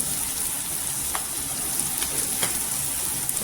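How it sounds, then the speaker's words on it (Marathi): Asafoetida sizzles in hot oil for a spicy dal and potato amti, a steady moderate crackling hiss with a few light taps of stirring. "हिंग टाकल्यानंतर आहे ना परतून घ्यायचं।"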